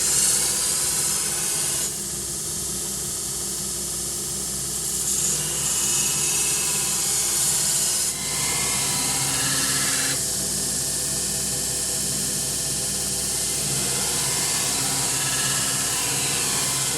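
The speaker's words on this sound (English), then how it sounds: "got a good sharp 36 grit, got the grinder speed turned up, and let's get moving" A belt grinder fitted with a sharp 36 grit belt, running at high speed, grinds a Damascus sword blade. It makes a loud, continuous abrasive hiss and roar that swells and eases as the blade is pressed on and lifted, with no voices.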